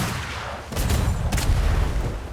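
Starboard ship cannons fire in a naval video game, two broad booming blasts landing about half a second apart over a steady rumbling background, loud and close.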